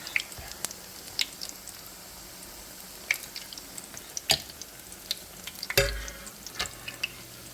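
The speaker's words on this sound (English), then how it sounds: "It's frying." Apple fritters frying in hot oil give a soft, continuous crackle with sharp pops and occasional stirring or turning clatters, heard up close without talk.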